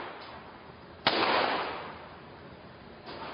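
One sharp, loud gunshot cracks and echoes through an indoor shooting range, with another fainter shot near the end over a constant background hiss.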